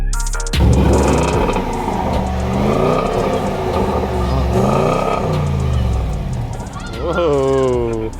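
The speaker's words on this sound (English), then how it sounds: "Did you rev it? Oh yeah. Downshift it goes." A new Range Rover's engine revs with a deep, beefy roar that rises and falls in several pulses, then a downshift brings a sweeping pitch change near the end, loud and close, with people talking over it.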